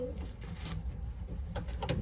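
An all-white racing pigeon gives soft, low coos close by, several brief murmuring calls spread over steady low background rumble and light clicks.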